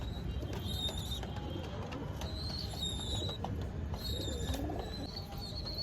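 Pigeons in a home loft at evening, several of them recovering from a cold, give soft low coos against steady background noise, with a few brighter calls from birds outside above them.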